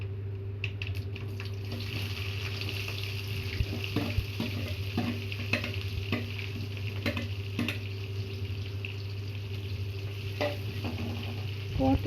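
Onions, cloves and spices frying in a pan for spicy chicken gravy are stirred, a steady sizzle under scattered scraping and clinking of a spoon against the pan.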